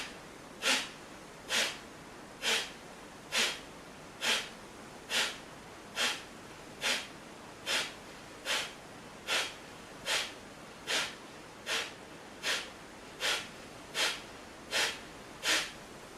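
Forceful rhythmic exhalations in a breathing exercise, about twenty sharp nasal puffs at a quick, even pace of roughly one per second, close and clear over a quiet background.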